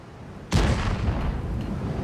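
A single heavy artillery cannon blast from the G.W. E 100 or T92 HMC in a tank video game booms suddenly, followed by a long rumbling roar that carries on without fading.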